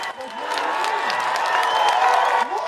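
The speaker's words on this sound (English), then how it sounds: "And they're clapping." A crowd applauds and cheers at a staged public appearance, dense clapping with scattered whoops holding steady throughout, while a voice talks over it.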